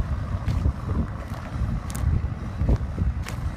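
A John Deere 5095 tractor works a field with a new-generation rotary plow, a steady low engine rumble and mechanical churning with gusty wind buffeting the microphone and no voices.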